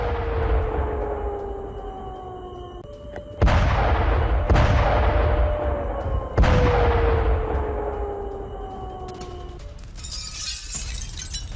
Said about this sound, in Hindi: अब जानकारी यहां पर मिल रही है कि एक और विस्फोट हुआ है इसी एयरबेस पर।